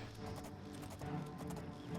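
Rapid hoofbeats of a horse in the video game The Elder Scrolls IV: Oblivion clatter in a steady galloping rhythm, quiet and muffled, with no voices over them.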